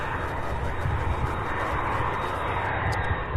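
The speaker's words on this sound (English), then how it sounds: "We've got the next MD-11 pushing back." A UPS MD-11 pushing back at Louisville's UPS Worldport gives a loud, close, continuous roar of jet engines that stays strong and even throughout.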